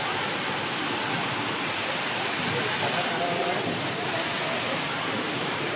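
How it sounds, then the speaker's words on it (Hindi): Two small waterfalls rush with a steady, broadband roar that fills the space evenly and grows slightly louder midway, close and continuous with no clear voices over it. "ये देखो ये झरने 2 है, छोटे वाले हैं"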